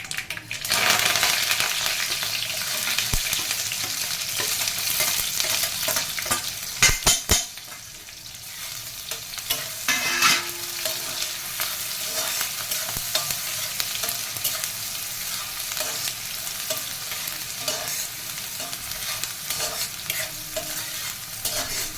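Steady loud sizzling of curry leaves, onions and green chillies frying in hot oil, with stirring scrapes and a few metallic clinks of a utensil against the pan.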